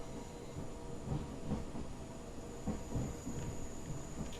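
Train brakes release on a London to Brighton Line train in Train Simulator Classic, heard as a steady hiss and low rumble with faint rhythmic clatter, continuous and moderately quiet, with no talking.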